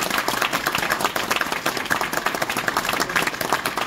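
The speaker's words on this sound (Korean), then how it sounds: "크게 축하의 박수 보내주시기 바라겠습니다" Delegates at a political party's founding convention break into hearty applause, a thick, continuous roar of clapping that stays loud for the whole stretch.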